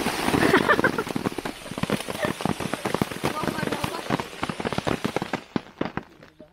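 Rain begins falling outdoors in a rural countryside setting, a dense patter of drops hitting surfaces with sharp scattered taps under ongoing voices, then thinning and fading toward the end.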